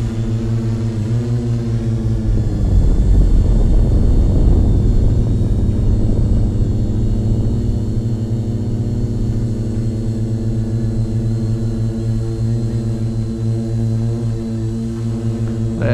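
A Redback Spider drone on an EDU-650 frame hovers steadily in the air, its propellers producing a loud, continuous droning buzz with layered harmonic whine, swelling slightly early on and then holding constant throughout, with no talking.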